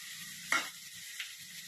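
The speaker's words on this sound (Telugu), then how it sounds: "ఇదో చూడండి, అల్లం వేస్తున్నాం." Ginger is dropped into hot oil and bursts into a sharp sizzle that fades quickly, with a smaller second spatter a moment later against quiet frying.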